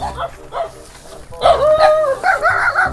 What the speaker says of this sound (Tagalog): Ay, maraming aso.